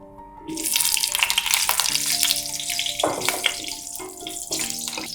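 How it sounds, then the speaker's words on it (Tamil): Bay leaves and slit green chillies frying in hot oil for mutton biryani give a loud, dense crackling sizzle that flares up and settles in waves, close to the pan. "இதை போட்டு பொரிய விடலாம். அது பொரிஞ்சதும் 7 பச்சை மிளகாய் கீறி வச்சுருக்கேன், இதையும் போட்டுக்கலாம்."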